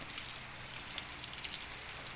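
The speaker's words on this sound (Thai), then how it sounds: "ตอนนี้ก็ฝนตกอยู่นะครับ" Heavy rain falls steadily as a faint, even hiss with no breaks or distinct drops standing out, and nobody speaks.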